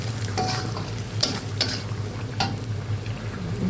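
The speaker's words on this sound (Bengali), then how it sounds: "এখন আমি সবগুলো মসলা সুন্দর করে ভেজে নিচ্ছি" Ground spices with salt and cumin powder frying in a pan for a Bengali taki fish, potato and tomato curry, a steady close sizzle with occasional stirring scrapes and light clinks.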